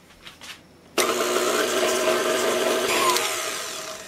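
An electric mixer kicks in abruptly and whirs steadily at high speed, beating batter for a lemon fiesta party cake. The sound is loud and close, with a slight change in tone near the end, after a few faint clinks beforehand.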